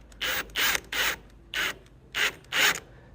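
A hand-turned M6x1 tap cuts threads into a drilled 5mm hole for a golf cart pedal repair, six short grinding scrapes with pauses between, close and with no talk.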